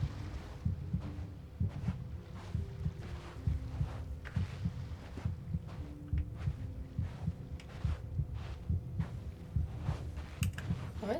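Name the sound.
pounding heartbeat sound effect in the video game Genshin Impact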